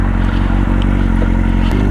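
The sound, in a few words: old sportbike motorcycle riding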